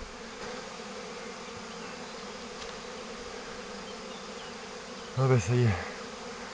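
A honeybee swarm settling into a Layens hive hums as a steady, dense buzz of many bees close around, and a voice briefly exclaims near the end.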